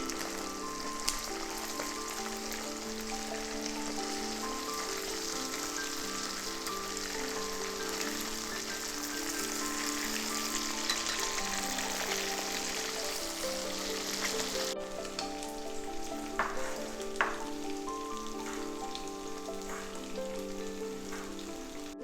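Chicken pieces fry in a pan for Kerala-style chicken varutharachathu, giving a continuous, even sizzle over 22 seconds, with steady tonal sounds underneath and a few faint clicks toward the end.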